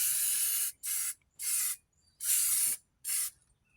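Bursts of spray paint hiss onto a truck frame that has been coated in WD-40, five separate passes in an uneven rhythm, close and loud with silent gaps between.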